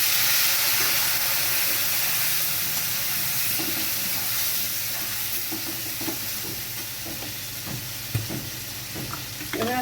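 A splash of water lands in a hot pan of ground chilli, turmeric, coriander and cumin and sets off a loud, steady sizzle. Clinks and scrapes of stirring come through in the later seconds.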